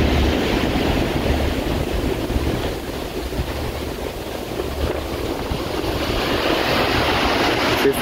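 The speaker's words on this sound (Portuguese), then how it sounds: "apesar de todo o perigo, de todas as bandeiras vermelhas, desse mar super agitado" Rough, heavily agitated sea with waves breaking continuously at a beach flying red warning flags, a loud dense roar of surf mixed with wind buffeting the microphone.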